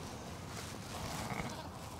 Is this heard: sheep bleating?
yes